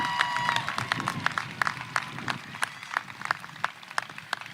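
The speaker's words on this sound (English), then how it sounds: "Let's congratulate all 9 of our valedictorians with a round of applause" A graduation ceremony audience gives a round of applause for nine valedictorians at a high school commencement, with crisp individual claps standing out over the crowd's steady clapping that gradually thins toward the end.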